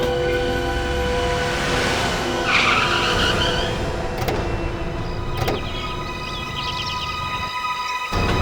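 A car's tyres skid and squeal over a loud, steady rumble of engine and road noise, with a sharp screech rising midway and a few brief clunks afterward.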